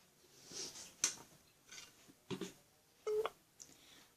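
Telephone call being placed: a few faint, scattered dialing beeps and clicks, quiet and close, with short gaps between them and no voices.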